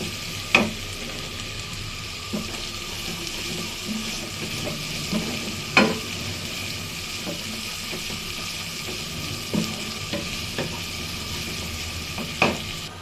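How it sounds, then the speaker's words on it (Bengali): Frying in mustard oil in a pan before red taro leaves go in, a soft steady sizzle broken by occasional sharp pops and clinks of a utensil, with no talk. "আমি সরিষার তেল দিয়ে রান্না করতেছি"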